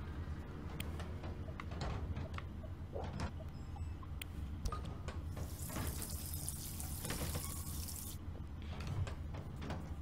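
A kitchen tap runs in the video game D4: Dark Dreams Don't Die, a steady hiss of flowing water lasting a few seconds over low room ambience and scattered clicks.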